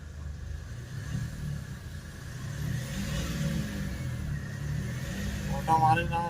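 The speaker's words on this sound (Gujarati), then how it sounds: "જોઈ શકો છો ગાડી ચાલુ પડી છે અત્યારે" A Mahindra Bolero's diesel engine runs after fuel pump repair work, a steady low idle hum close by that swells slightly, with a person talking over it.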